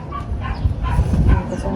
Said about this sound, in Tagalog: bantay yung kanyang mga aso